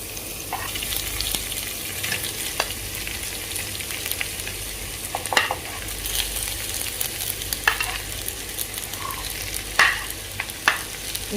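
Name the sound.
stir-frying rice with vegetables for chicken fried rice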